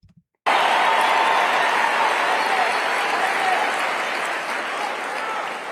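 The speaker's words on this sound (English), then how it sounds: "are they cheering for Candace Owens or are they cheering for Ben calling out Candace Owens" A large crowd at a political event bursts into loud, sustained cheering and applause after a brief quiet moment, the dense roar holding steady and easing slightly toward the end.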